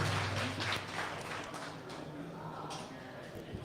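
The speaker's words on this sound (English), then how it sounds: "Let's give Cathal a round of applause" Scattered audience applause at an AI for marketers meetup after a demo, fairly faint and thin, with a few distinct claps over a murmur of voices.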